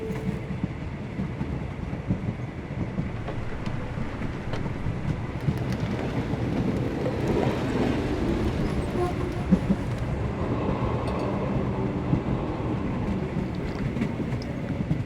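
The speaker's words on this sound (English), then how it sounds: "we can still catch tonight's train." A steady rumbling train ride at night in the Sherlock Holmes The Awakened game, with continuous low wheel and carriage noise and faint rhythmic rattling throughout.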